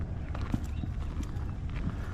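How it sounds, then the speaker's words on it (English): A horse pulling a buggy on historic town streets, with soft, somewhat distant clip-clop hoofbeats in an irregular rhythm over a low rumbling background. "There's a little horse and buggy up underneath the carriage shelter on the side there."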